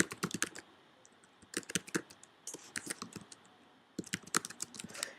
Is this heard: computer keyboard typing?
yes